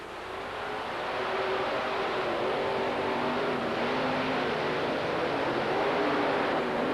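Drag race cars roar down the strip at night in a continuous, loud, broadband engine blast that holds steady for several seconds, heard from a distance.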